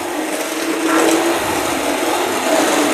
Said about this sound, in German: dann kann man ja mit dem Mixer reingehen